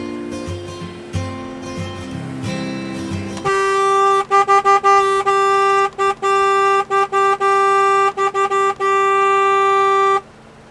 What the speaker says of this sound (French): les conducteurs, ils ont toujours ce réflexe de klaxonner